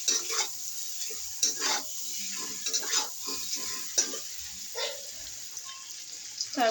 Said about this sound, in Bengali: তারপরে দিয়ে দেবো ভেজে রাখা ডিম, দিয়ে একটু নাড়াচাড়া করে নেব